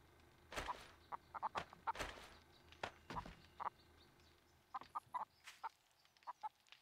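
Chickens clucking in the video game Undead Legacy, a string of short, sharp clucks in irregular bursts, close and clear against a quiet background.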